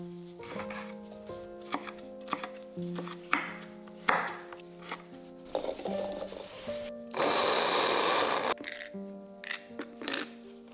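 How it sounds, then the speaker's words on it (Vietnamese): A small electric grinder whirs in short bursts as seeded, chopped bird's-eye chili peppers are blended, with a longer steady buzzing run near the end amid kitchen clatter. "Chỗ ớt này thì mình bỏ hạt, sau đó cắt nhỏ và cho vào cối xay nhuyễn."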